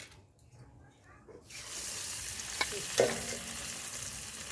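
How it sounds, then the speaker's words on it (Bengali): Fish is placed into hot oil in a kitchen pan, and a near, steady sizzle starts after a quiet moment, with a couple of light utensil clinks over the hiss. "এবার মাছ ভাজা বসিয়ে দিচ্ছি"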